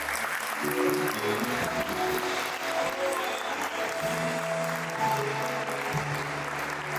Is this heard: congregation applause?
yes